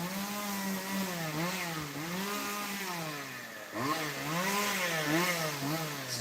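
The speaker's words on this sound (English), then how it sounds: "It's a chainsaw." A chainsaw runs outdoors in the woods, its engine droning steadily and rising and falling in pitch with repeated revs throughout, close and loud with no speech.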